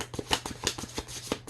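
Tarot cards being shuffled by hand, a quick run of crisp riffling slaps and flutters at close range, several distinct bursts in about a second and a half with no talking.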